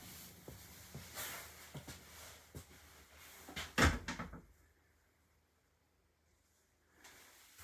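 The port wheelhouse door of a 63-foot Fleur de Lys motor yacht opens with scraping and clicks, closes with a sharp close thud, then near silence follows.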